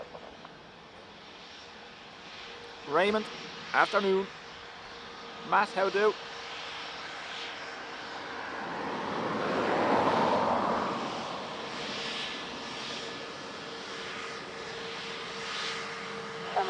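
An Aer Lingus A321neo jet airliner swells into a broad, rising and fading roar at Dublin Airport, peaking mid-clip after two short bursts of nearby conversation, with a steady background hum throughout.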